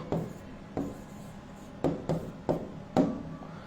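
Chalk or marker on a classroom board writes a short word as a series of six quick scratchy strokes, each a brief rub with pauses between, close and clear, with no talk.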